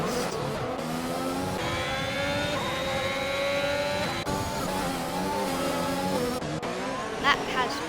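Race car engines in an Xbox racing video game, several cars whining and revving at high pitch with shifting tones as they pass, under a commentator's steady talk.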